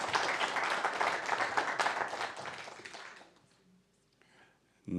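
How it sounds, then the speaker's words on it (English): Audience applause fills a conference main-stage hall at a security event, dense clapping for about three seconds that thins and fades into near silence before a brief sound returns at the end. "let's give a massive round of applause"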